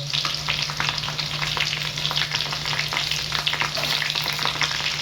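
Garlic sautés in hot oil in a pan, a steady close sizzle with crackling spatters running throughout, with no talk over it.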